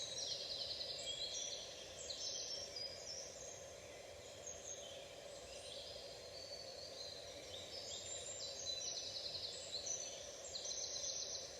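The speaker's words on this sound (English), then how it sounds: "Listening to the song of the birds." Birds sing outdoors, with repeated high chirps and trills rising over a steady low background hum, fairly faint and distant throughout.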